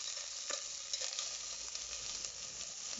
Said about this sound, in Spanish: mí me gusta freír primero lo que es la cebolla y el chile junto con el ajo